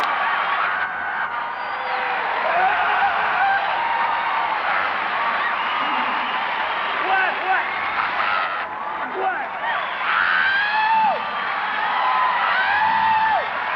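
A stand-up comedy audience whooping, cheering and applauding loudly and continuously, a dense crowd roar with yells rising above it throughout.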